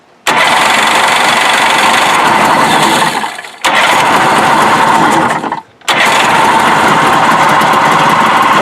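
A Sea-Doo 587 XP GTX jet ski engine under restoration runs loud and raspy on a little gas poured into the carburetor, briefly stumbling and nearly dying twice before catching again.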